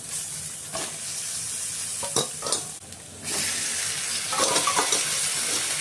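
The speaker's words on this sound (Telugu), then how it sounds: "మాడిపోకుండా ఉండాలంటే వెంటనే ఆ ముక్కలు కూడా వేసేసుకోవాలి, ఆలుగడ్డలు వంకాయలు." Potato and brinjal pieces frying in oil after masala, a continuous close sizzle with stirring scrapes and clatter, rising louder as more pieces hit the pan.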